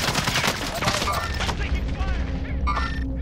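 Rapid automatic gunfire in the video game Call of Duty: Warzone, a dense burst of shots for the first second and a half, then sparser game sounds with faint background tones.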